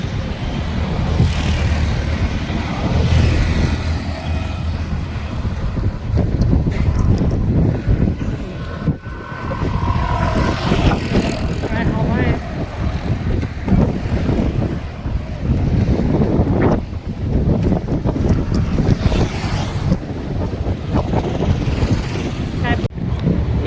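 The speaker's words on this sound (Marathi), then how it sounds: "या रोडने आल्यावरती खूप हवा पण आहे इकडे" Strong wind buffets the microphone on a hilltop road near Lonavala during a scooter ride, a loud, continuous roar with gusting surges and a low rumble underneath.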